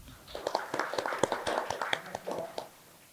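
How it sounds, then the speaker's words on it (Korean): Clapping from a forum audience welcoming a speaker to a policy panel on climate technology talent, a modest, fairly quiet round of hand claps with distinct individual claps, fading out near the end. "큰 박수로 환영 부탁드립니다."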